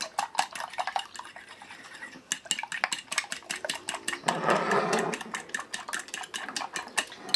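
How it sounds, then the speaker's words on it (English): A whisk clatters fast against a dish as eggs are beaten, a steady rapid rhythm of close metallic ticks that swells briefly mid-way. The beating runs alone with no voices. "just going to whisk them in a dish, like so"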